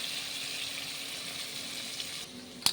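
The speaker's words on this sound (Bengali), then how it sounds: "হালকা একটু ফ্রাই করে নেব।" Paneer and spices fry lightly in butter with a soft, steady hiss at close range, ending in a brief sharp clink.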